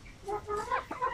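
Native Zampen chickens and roosters clucking close by in quick, uneven bursts with brief pauses between calls.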